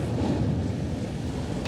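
Ocean waves breaking on a beach, a steady broadband wash of surf mixed with wind buffeting the microphone, continuous and fairly close.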